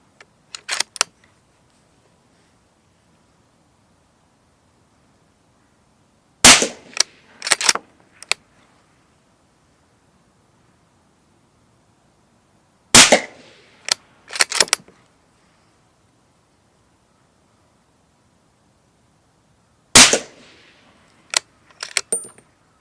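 An Allen key works loose the stock on a Sauer 505 ErgoLux rifle in .308, producing short clusters of sharp metallic clicks and clinks spaced several seconds apart, close and crisp in near silence.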